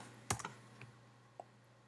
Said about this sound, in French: Là, je tape mes informations